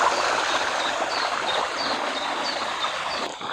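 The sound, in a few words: garden waterfall splashing into pond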